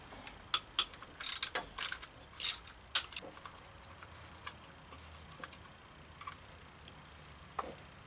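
Ratchet clicks in short uneven bursts as a bolt is loosened on the rear engine cover of a 2003 Honda Civic during head gasket work, close and crisp, then quieter with scattered faint ticks.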